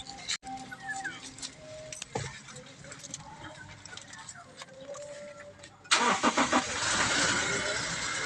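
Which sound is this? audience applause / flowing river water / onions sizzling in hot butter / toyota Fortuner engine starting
toyota Fortuner engine starting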